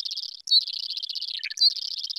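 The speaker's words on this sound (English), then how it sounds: "What a sweet little bird!" A small bird chirps in a quick, steady run of high tweets, fairly close and clear, with a couple of brief sharper calls breaking in and no talking.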